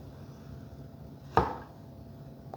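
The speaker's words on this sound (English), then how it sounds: "Sliding right through that tomato, no problem at all." A sharp kitchen knife slices cleanly through a tomato in one quick cut, followed by a faint tap on the board a moment later.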